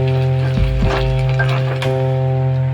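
Hidol fish-fry bhuna sizzles in a pan over a steady hum, with a few scraping stirs of a spoon through the spiced mixture of coriander and turmeric.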